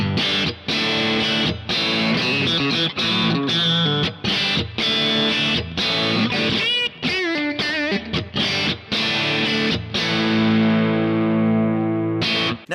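Heavily distorted electric guitar through a Kemper amp profiler playing chugging chords and a short bent lead line, ending on a long ringing sustained chord.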